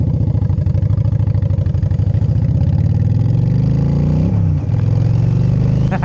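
A car engine sounds steady and close throughout, its pitch climbing under acceleration, then briefly dipping with a gear change into fifth before pulling again, with no talk.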